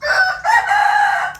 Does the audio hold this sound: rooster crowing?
yes